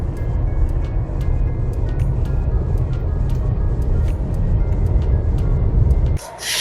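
A car cruising at 100 km/h on an empty highway in sixth gear, fitted with a 6th gear kit on a 1500cc petrol manual: steady low road and engine rumble with tyre hiss, constant and close, ending in a brief rustle.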